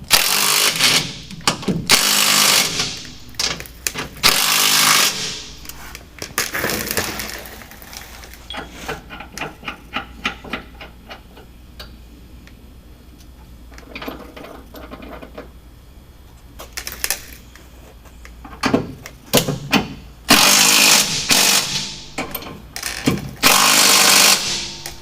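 A power tool rattles in repeated bursts as it tightens the bolts of a Curt Class IV trailer hitch on a 2000 Chevrolet Silverado 1500. Some bursts are long and loud, others short and sputtering, with clanks and quieter gaps between them.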